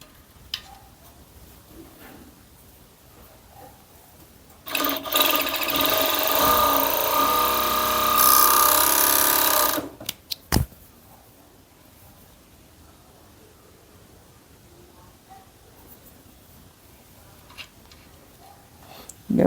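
A sewing machine running steadily through fabric for about five seconds, a loud continuous whirring stitch burst, followed by a couple of brief clicks and then near quiet.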